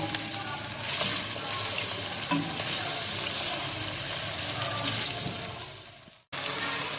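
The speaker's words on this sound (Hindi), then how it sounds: "चिकन को हमें फ्राई कर लेना है," Chicken frying in a pan for homemade chicken biryani, a steady loud sizzle and crackle throughout that cuts out briefly near the end before resuming.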